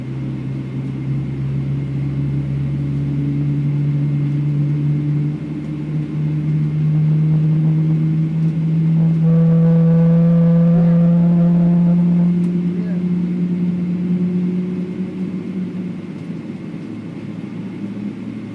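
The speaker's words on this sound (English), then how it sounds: "Nicknamed 777 mooing, these engines sound so distinctive while starting up." Boeing 777 jet engines spool up inside the cabin, a loud steady drone with rising and falling moaning tones over a constant rumble.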